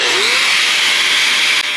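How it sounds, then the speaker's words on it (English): A power tool grinds loudly and steadily close by as it trims the top of a metal post on a 1941 Lincoln Zephyr. It cuts a continuous bright whine for under two seconds, with no talk. "Let's trim the top of this post down a little bit for a little more clearance."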